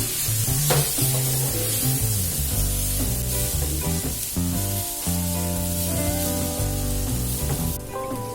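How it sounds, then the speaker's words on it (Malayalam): Tomato fries with a browned masala in a pan for an oyster mushroom roast, a steady sizzle and stirring sitting beneath loud background music throughout. "ഇപ്പൊ മസാല നല്ലതുപോലെ മൂത്ത് വന്നിട്ടുണ്ട്. അപ്പൊ നമ്മൾ എടുത്തു വെച്ചിരിക്കുന്ന ഒരു തക്കാളിയും കൂടെ ചേർത്ത് കൊടുക്കാം."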